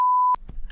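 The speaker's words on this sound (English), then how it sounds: "We'll just beep it." A censor beep covers a swear word: one short, steady, high electronic tone lasting about a third of a second, followed by faint room noise.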